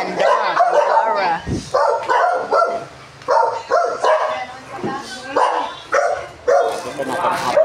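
Dogs barking at a family gathering in the Philippines, short repeated yaps and barks mixed with whimpers, close by and mostly under steady overlapping conversation.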